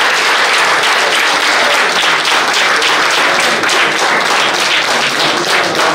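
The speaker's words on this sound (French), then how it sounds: "Des acclamations massives pour approuver la mention du jury" Massive, sustained applause and cheering from an audience at a doctoral thesis defense as the jury's distinction is announced, dense and loud from start to finish without a break.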